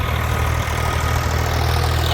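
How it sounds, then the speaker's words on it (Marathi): A tractor engine idles close by, a steady low rumble with a constant even throb, loud throughout and with no voices over it. "तर येऊन आलं आहे ट्रॅक्टर"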